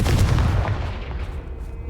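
A Confringo spell blast in the Hogwarts Legacy video game hits as a single sharp, loud explosive burst that quickly fades into a short rumbling tail.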